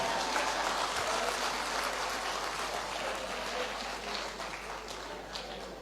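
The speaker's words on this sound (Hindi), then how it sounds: "उन दुखियारी लोगों ने ताली बजाई" Audience applause from a crowd at a Hindi spiritual discourse, a dense steady patter of clapping that carries at an even level through the whole stretch with no voices over it.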